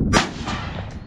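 A single gunshot fired at a piece of plastic outdoors on a farm, one sharp loud crack followed by a short fading echo.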